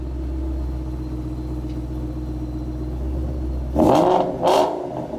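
A 2011 Ford GT500's deep, steady engine rumble idles low, then two short revs surge up loudly near the end.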